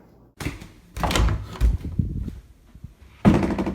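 A bedroom door in a family home is opened without a knock, giving a few loud, close thumps and rattling clatters in quick succession, separated by short pauses.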